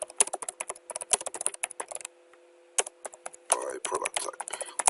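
Fast clicking of computer keyboard keys, close and crisp, in quick bursts with a short pause in the middle.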